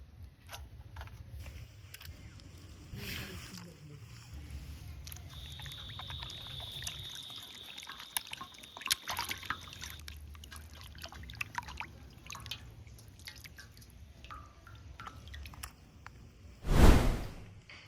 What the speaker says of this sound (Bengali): ঠিক এইভাবে প্রত্যেকটা চুস্তায় পরিষ্কার করে ধুয়ে নিব।